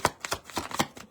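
A quick series of soft papery riffles and taps, about five in a row, close up, as tarot cards are shuffled by hand.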